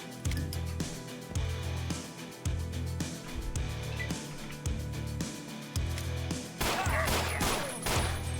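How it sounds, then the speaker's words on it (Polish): Gunfire in the video game Ashes: Afterglow: a series of loud, sharp shots spaced roughly every second, over a steady low in-game rumble, with a denser burst of noise near the end. "Dwa celne strzały poszły."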